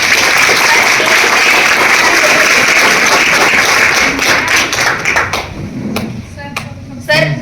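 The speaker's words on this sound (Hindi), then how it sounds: "तालियां बजनी चाहिए" A training-session audience for a beauty and moringa product team breaks into loud, dense applause that fills the room for about five seconds before thinning into a few scattered final claps.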